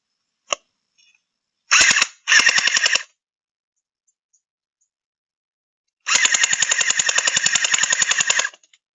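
A VDD Toys M16 gel ball blaster fitted with a drum magazine fires a lone shot, then two short bursts, then a long rapid burst, each crisp and close in near silence.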